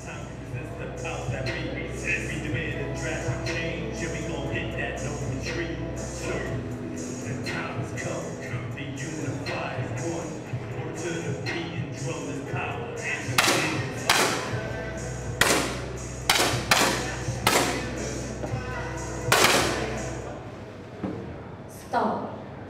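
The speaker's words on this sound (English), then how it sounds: "We now move into the seventh shot of the competition, and it's single shots." Single 10m air pistol shots in a men's world cup final in Bangkok sound as a series of sharp, short cracks spaced a second or two apart. They grow clearer toward the end under ongoing commentary and hall ambience.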